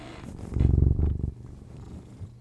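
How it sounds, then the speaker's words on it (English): A cat purrs very loudly and close up, a dense rumbling burst that swells for about a second, then settles into a softer, steady purr. "I've never heard a cat purr this loudly."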